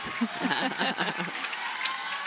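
A jam-packed new softball stadium crowd cheers during a curtain call in a Florida State vs Oklahoma college game, a bright sustained roar with whoops, while a commentator talks over it.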